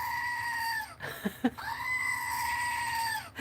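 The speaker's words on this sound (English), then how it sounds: "Screaming Goat." A goat toy lets out a long, loud, sustained scream, broken briefly by a couple of short squeaky bursts, then screaming again on one held pitch, close and alone with no talk.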